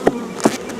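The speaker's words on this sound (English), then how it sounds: "Oh, I can hear they're getting loud. Loud bees." Honey bees in an opened hive during a brood inspection, buzzing with short louder swells over a steady hum, close by and brief.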